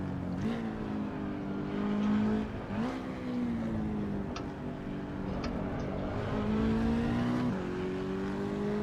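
Race car engine in Assetto Corsa EVO holding a steady drone through the clip, with pitch rising and dipping through gear shifts and load changes and faint tire noise beneath, loud and alone with no talk.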